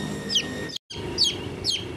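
Village chicken chicks chirp in three separate bursts of high, descending peeps, fairly close, with a brief gap of silence between the first and second calls.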